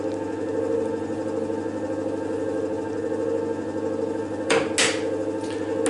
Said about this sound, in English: As you can hear, now it is knocking